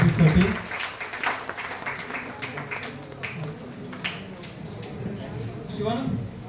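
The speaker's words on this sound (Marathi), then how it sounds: "सर्वांनी त्यांच्यासाठी जोरात टाळ्या वाजवायचा आहे सर्व पुरस्कार मूर्तीसाठी." Audience clapping at an award ceremony, a loose, sustained patter of hands that carries on at moderate level through the whole stretch, with faint crowd murmur beneath.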